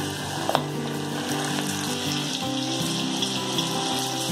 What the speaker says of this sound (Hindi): जब तक कॉर्न ऊपर नहीं आ जाते हमको इनको फ्राई करना है।